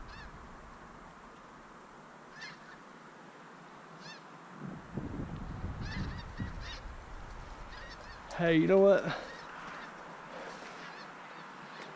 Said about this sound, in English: Hey, I was talking about the geese.